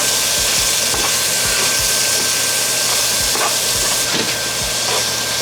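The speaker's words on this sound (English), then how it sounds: "We're gonna take this same pan and cook up our sausage in the juice." Sausage cooking in a piping hot pan in the leftover meat juices, giving a loud, steady broadband sizzle and hiss throughout with a few faint low knocks underneath.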